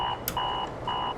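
An alarm buzzes in a TV advert, a loud repeating electronic tone sounding in three pulses with short gaps between them, heard alone.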